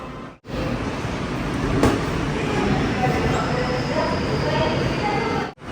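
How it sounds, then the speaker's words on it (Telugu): A subway train approaches a station platform in Seoul, a steady loud rumble and rush of wheels and air filling the whole span with a brief sharp squeal partway through. "ఇప్పుడు ట్రైన్ వస్తుంది"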